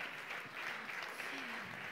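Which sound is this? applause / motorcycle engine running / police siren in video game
applause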